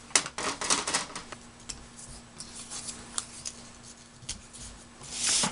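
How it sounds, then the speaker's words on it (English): Scissors snip through a paper name strip for a Chinese table card, a run of sharp close clicks and cuts, sparser in the middle, with a louder rustle at the end; no voices. "So I'm going to go ahead and cut one of the names."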